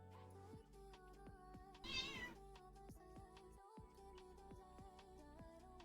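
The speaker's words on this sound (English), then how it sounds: "Why are you yelling at me, cat?" A real cat meowing in a room, one short, fairly faint meow standing out briefly over quiet background music with regular ticking beats.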